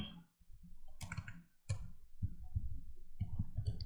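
Clicks and taps from a computer keyboard while a name is typed into an online form, arriving as short irregular clusters, fairly quiet and close, with no talk.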